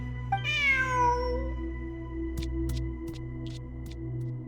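A single clear cat meow in Genshin Impact, a rising then falling mew lasting about a second, followed by soft clicks and light game ambience over a steady low background hum.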